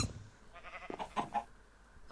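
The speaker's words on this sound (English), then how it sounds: "I also got a goat" A goat in the Minecraft OneBlock Skyblock game bleats in a few short, quiet wavering calls against a low background, without anyone talking.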